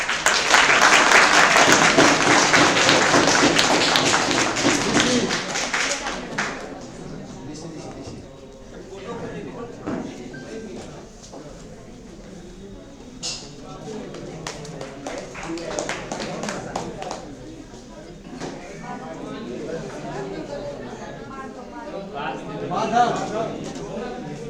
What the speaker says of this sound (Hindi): जोरदार तालियां बजाओ।